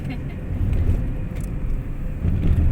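Car engine and tyre rumble as a vehicle drives along a scenic road, a steady low drone holding continuously from start to finish with no voices.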